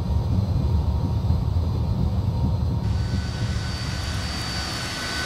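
Fokker F28 jet engines in a flight simulator game spool up as the throttles come forward, a loud, steady roar and whine that broadens and brightens about halfway through, with no talking.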